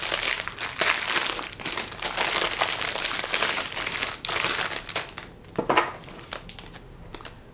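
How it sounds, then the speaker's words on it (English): Paper budget money envelopes are handled up close, giving loud crinkling and rustling that runs almost continuously before thinning into a few separate crackles near the end, with no talking. "I got these money envelopes. So let me just show you these."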